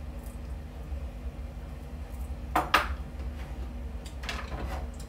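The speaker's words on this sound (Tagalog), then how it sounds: "I mix this one in the chicken." Seasoning is worked into chicken in a bowl, bringing soft wet shuffling and a couple of sharp clinks against the bowl midway, near and moderately quiet over steady low background hum.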